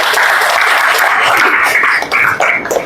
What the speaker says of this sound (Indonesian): Beri tepuk tangan dulu yang sudah berbicara